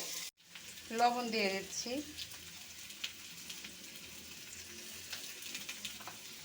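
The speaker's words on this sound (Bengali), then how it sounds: "আলুগুলো ভেজে নেব।" Potatoes frying in a pan for a hilsa fish curry, a low steady sizzle running throughout, partly under a voice speaking briefly near the start.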